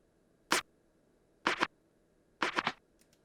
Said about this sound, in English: It is 3 scratch sounds in the same track